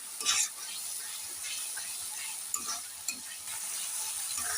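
Spice paste for a thin singi fish curry is stirred and fried in a pan, a steady sizzle running throughout with occasional scraping clinks of the spoon against the metal, close and alone without voices.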